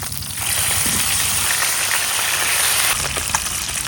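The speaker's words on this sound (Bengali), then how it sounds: "এখন উল্টাই আর এক পিঠ ভাজতে হইবে।" Minar carp pieces, rubbed with turmeric and salt, frying in hot oil after being turned to cook the second side; a dense, steady hiss of sizzling fills the few seconds, close and fairly loud.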